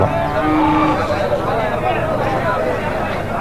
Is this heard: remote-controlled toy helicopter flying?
no